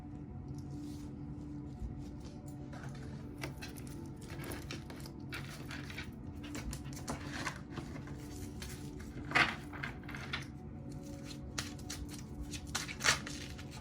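A slippery tarot card deck is handled and shuffled, with soft repeated card flicks, slides and light taps at a close, quiet level.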